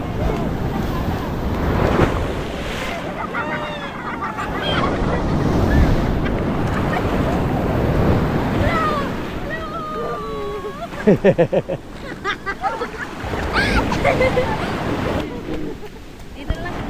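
Sea surf rolling in at high tide during stormy monsoon weather, a steady loud wash of breaking waves with wind buffeting the microphone and voices talking over it.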